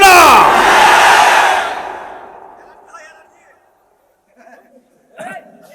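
A large crowd at a religious sermon gathering roars the takbir chant, loud and sustained, then fades away over about two seconds, leaving near silence broken by a few faint later sounds.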